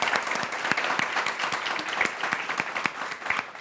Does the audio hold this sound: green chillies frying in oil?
no